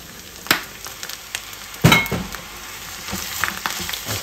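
Fried rice with vegetables sizzling in a pan while being stirred, steady frying hiss with a few sharp clinks of a utensil against the pan near the mic.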